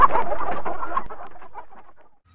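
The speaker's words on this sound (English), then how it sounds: "H for hen." A hen clucks in a short run of close, clear notes that taper off and fade.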